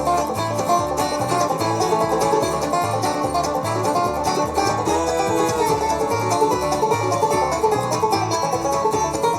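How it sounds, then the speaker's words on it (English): A banjo solo on a live recording of a bluegrass tune, with a fast, dense run of bright plucked notes over a steady band groove that stays loud and even throughout. "Today, let's learn a banjo solo"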